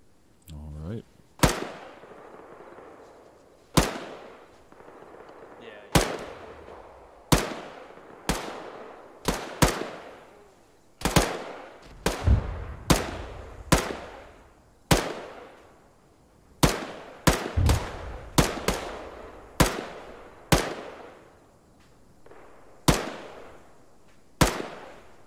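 Single gunshots in the video game Arma 3, about twenty sharp cracks spaced irregularly, roughly one every second or two, each trailing a long echoing decay across an open valley, with no talk between them.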